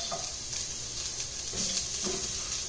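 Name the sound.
veal paupiettes browning and sizzling in pan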